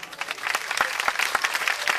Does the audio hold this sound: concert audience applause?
yes